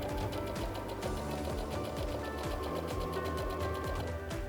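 A home sewing machine with a J-foot runs a short basting seam on fabric for a half apron, its rapid, even needle chatter and motor hum continuous and close throughout.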